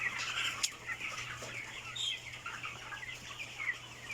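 Broiler chickens on a farm cluck and chirp in a busy flock, soft overlapping calls at moderate distance over a low steady electrical hum, with no speech.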